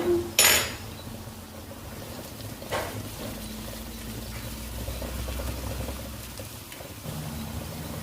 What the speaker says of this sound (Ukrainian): Грибися в мене жарять, я їх теж маленько посолю